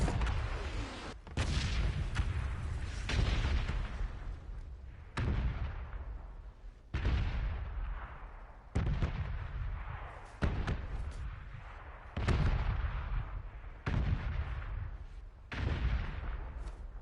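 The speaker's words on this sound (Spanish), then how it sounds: "Al guiri le disparan." Gunfire in PUBG on PS4 comes as a series of about nine loud, booming shots at fairly regular intervals, each decaying into a reverberant tail.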